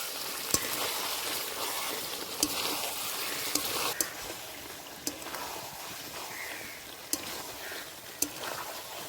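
Chicken fries in a ground spice paste in a pot over a wood fire, with a steady, soft sizzle and occasional sharp clicks from stirring or the pan, and no voices.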